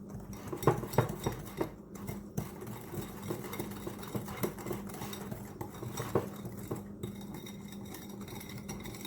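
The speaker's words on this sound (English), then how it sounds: "we're going to whisk this together" A coleslaw dressing is whisked in a bowl, the utensil clinking and scraping against the sides in quick, irregular bursts at close range, with no talk.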